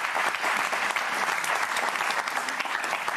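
A crowd applauds steadily and loudly for a few seconds, a dense continuous patter of clapping with no voices standing out.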